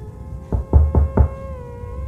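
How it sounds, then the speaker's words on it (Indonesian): Four heavy, evenly spaced knocks land on the front door of a house's living room, booming close over a sustained low eerie tone. "Suara ketukan yang lama dari luar pintu ruang tamu rumah Ana."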